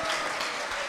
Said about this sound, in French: On applaudit Saint-Louis de Gonzague